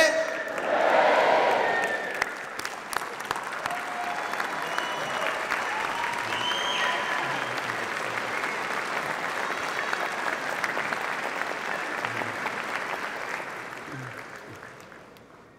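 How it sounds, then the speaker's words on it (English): A graduation ceremony audience cheers and applauds in a large hall, a dense, loud and sustained roar of clapping and shouting that holds steady for the whole stretch before tapering at the end. "I want you all to wave your mortarboards in the air and give a hearty cheer"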